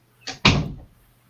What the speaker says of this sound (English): Now my dog's figured out how to open the door.